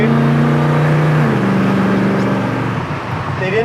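A 1970 Ford Mustang Fastback engine revs loudly and steadily, its pitch climbing, dipping briefly as it shifts from first to second, then rising again close by.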